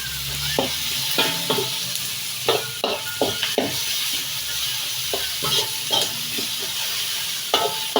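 Vegetables for tomato chutney sauté in a pan, a steady close sizzle broken by repeated scraping stirs of a spoon against the metal at an uneven rhythm.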